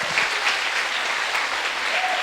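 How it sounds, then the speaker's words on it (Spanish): A church congregation applauds during a sermon, producing a steady, dense wash of clapping from a crowd that holds even and loud for the whole stretch, with no speech over it. "Si vas a aplaudir, aplaude."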